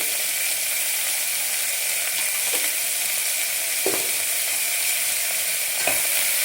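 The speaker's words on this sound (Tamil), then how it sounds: "வெங்காயம் சீக்கிரம் வதங்கிறதுக்காக கொஞ்சம் உப்பு இப்போவே சேர்த்துக்கிறேன்." Onions sauté in a pan with pink salt for a beetroot salna, giving a steady close sizzle with a few sharp scrapes and clicks from stirring, and no talking.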